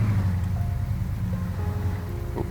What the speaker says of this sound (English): Oh, noisy car outside